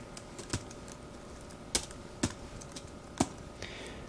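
Sparse keystrokes on a computer keyboard: a handful of crisp, separate clicks with pauses between them, close and clear against a quiet room hum.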